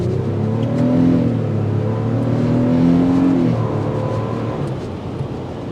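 A 2024 Lexus GX 550 SUV accelerates hard, its engine note rising in pitch through a gear change and climbing again, heard from inside the cabin with steady road noise.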